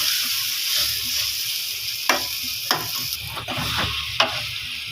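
Baingan bharta ingredients, with salt added, frying and being stirred in a pan, giving a continuous close sizzle broken by four or five distinct utensil scrapes and knocks.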